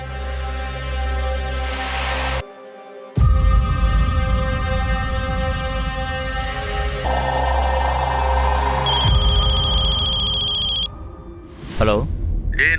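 A telephone rings in repeated electronic tones over several seconds, clear and prominent, with dramatic background music and a short break partway through.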